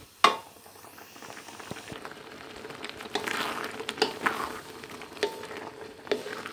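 Thick jackfruit paste is stirred in a pan over a charcoal stove, with a soft continuous sizzle and bubbling broken by scraping strokes and occasional clacks of the utensil against the pan.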